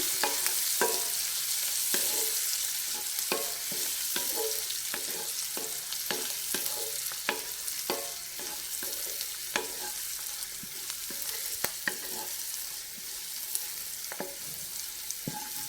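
Onions fry in a pan, cooking for a chicken fry dish, giving a continuous hiss and crackle punctuated by repeated sharp taps and scrapes of stirring, close and moderately quiet, with no speech.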